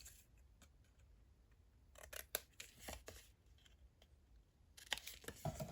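Scissors make short, crisp snips while angle-cutting through a sheet of paper at close range, in a few separate bursts against an otherwise quiet room.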